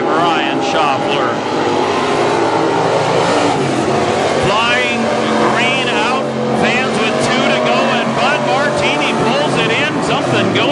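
Race cars roar around Granite City Speedway during a heat race, engines droning and revving continuously and loudly while an announcer talks over them.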